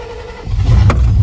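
A 1991 GMC firewood hauling truck engine starting on a push-button switch: a brief click, then the engine catches and rumbles low and loud right up close.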